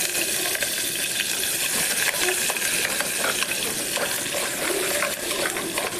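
Onions and green chillies fry in about three tablespoons of hot oil in a pressure cooker, a steady close sizzle broken by frequent spoon stirs and scrapes.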